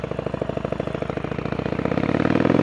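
A 2008 Harley-Davidson Sportster 1200 Roadster motorcycle engine runs with a steady, loud, close-up rhythmic V-twin throb that builds slightly in intensity toward the end.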